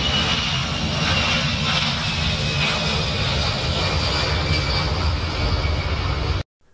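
A fixed-wing airliner's engines drone steadily in flight as heard from the cabin, a loud continuous broadband roar that cuts off abruptly at the end.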